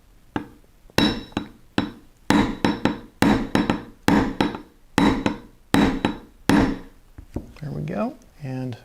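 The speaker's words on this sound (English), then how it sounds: "So should need just a few more whacks and we're golden." A hammer strikes a CZ P-07 pistol frame during a McArbo spring upgrade, about a dozen sharp metallic whacks in a steady rhythm, close and loud, then a brief metallic scrape.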